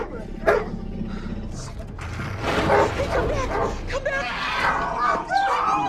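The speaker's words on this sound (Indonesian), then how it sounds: "tiba-tiba si anjing menggonggong karena seekor hewan buas mencoba mendekati mereka" A dog barks and yips amid a dense, noisy dramatized scene of a wild animal approaching, the sharp barks cutting through a busy mix of sounds.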